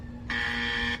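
A single electronic buzzer sounds in one steady, flat tone lasting under a second, then cuts off abruptly.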